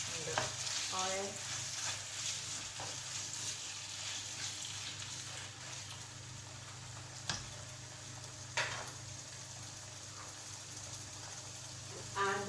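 Ground beef is stirred together in frying oil for a classic lasagne, a faint, even sizzle broken by a few light utensil clicks against the pan.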